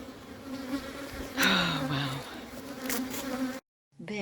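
Robber bees swarming at a hive in spring, a close, steady buzzing drone with individual bees whining past louder for a moment, then a brief cut to silence before the buzzing resumes.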